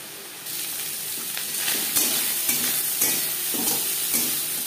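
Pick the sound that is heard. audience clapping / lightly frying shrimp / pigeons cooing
lightly frying shrimp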